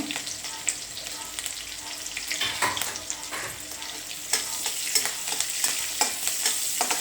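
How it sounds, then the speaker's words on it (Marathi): A rice flour mixture with asafoetida is stirred in a pan for rice flour ukad, giving a continuous scraping, swishing sound over a soft hiss. It is close and steady, with no talking. "आता हे एकदा हलवायचं कारण तांदळाचं पीठ जड असल्यामुळे खाली बसतं हे हलवायचं"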